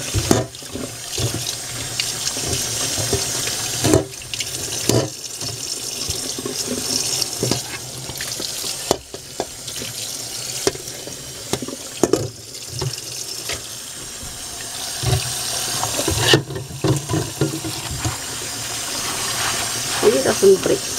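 Tap water runs continuously while mulberry leaves are rinsed under it, with splashing and handling noises rising and dipping throughout.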